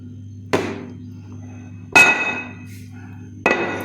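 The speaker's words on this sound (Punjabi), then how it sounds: "ਉੱਪਰ ਆਪਾਂ ਇਹਦੇ ਚਕਲਾ ਰੱਖ ਦਿੰਨੇ ਆ" A wooden rolling board is set down on homemade paneer in a kitchen, making three sharp, close knocks spaced more than a second apart, each with a brief hard ring.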